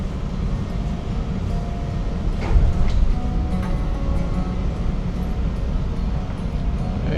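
Old local train running on a rural Yamaguchi line in Japan, a steady low rumble and rattle of the carriage heard from inside, continuous throughout with a slight swell midway.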